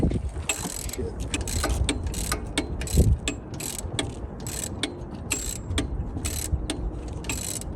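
A ratchet tightens a 14 mm bolt on the alternator of a 2007 Toyota Camry. Quick metallic clicks repeat in steady runs, close by, with light handling noise and no talk.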